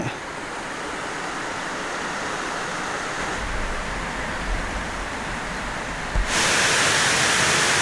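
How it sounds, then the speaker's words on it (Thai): Water pouring down the seventh tier of Huai Mae Khamin falls in a storm-damaged forest, a constant broad roar that grows louder and brighter near the end. "ตรงนี้ก็น้ำตกชั้นที่เจ็ดนะครับ"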